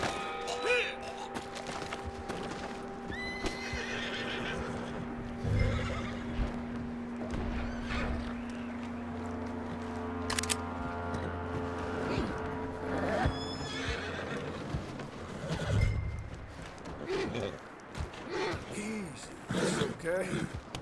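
A horse whinnies and snorts in the Red Dead Redemption 2 video game, with hoof clip-clops and thuds, as someone talks soothingly over it, mixed with background game sounds.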